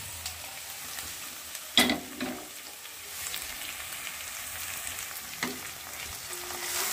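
Spices for palak chicken sizzle steadily in a hot pan, a constant crackling hiss with a couple of louder scrapes and stirs, close and alone without talk.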